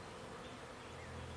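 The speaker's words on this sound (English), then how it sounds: "Bees everywhere." Bees from a swarm fill the air with a dense, steady buzzing hum, faint and continuous with no talk.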